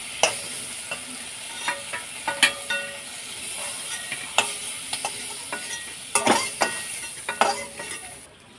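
Cloves and cardamom sizzle and splutter in hot oil while prawn masala is cooked, with steady frying hiss and scattered sharp crackles and pops throughout, alongside a few light stirring clinks.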